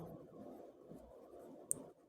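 A pen scratching across paper in short strokes, very faint and close, ending with a small tap, with no talking.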